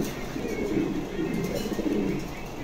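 Exhibition homer pigeons give a low, steady coo that blends into a dense, muffled background murmur, moderately loud and continuous.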